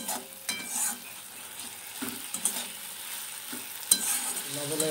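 Small-chopped tomatoes hit hot oil in a pan for a katla fish curry, giving a close, continuous sizzle with stirring scrapes and a sharp clink near the end.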